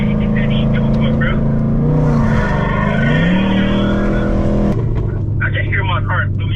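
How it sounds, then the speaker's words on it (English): Loud, close engine of a Ford Mustang revving and holding high rpm on a Detroit street, the pitch rising and settling before dropping off near the end, with voices talking over it. "I can hear my car through your phone."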